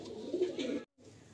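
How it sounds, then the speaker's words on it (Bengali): Malbai pigeons in a loft coo softly, with a couple of close, low throaty calls broken by a brief gap of silence. "আজকে 3 পিস মালবাই পায়রা দেখানো হলো ফার্স্ট সেলে"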